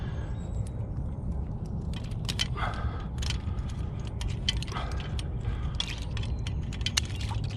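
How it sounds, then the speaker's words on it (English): A metal split ring and a steel beaver trap are handled outdoors by cold water, giving light, scattered metallic clinks and jingles over a steady rushing background, with no talking. "I'm just gonna pull that split ring off. And we're gonna attach that trap there where that ring was with this other ring."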